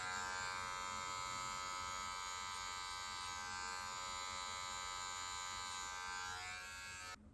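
Electric hair clippers run in a steady, loud buzz for a self-cut high taper, humming alone without a break before cutting off abruptly near the end.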